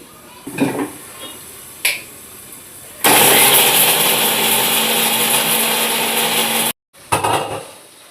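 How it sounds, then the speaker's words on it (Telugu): A kitchen mixer grinder grinds cashews, dry coconut, cinnamon, cloves and cardamom: a few brief knocks, then a loud continuous whirring roar for several seconds, a sudden stop, and a short final burst. "నేను ఒక 7 జీడిపప్పులు, కొంచెం ఎండు కొబ్బరి, చెక్క, లవంగా, యాలకులు వేసి మిక్సీ పట్టుకుంటానండి"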